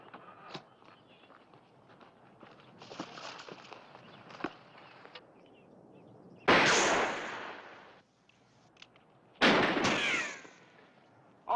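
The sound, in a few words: gunfire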